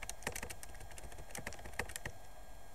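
Keys clacking on an Acer laptop, picked up by its internal mic, with scattered bursts of crisp taps in uneven rhythm, quiet and close, no voices.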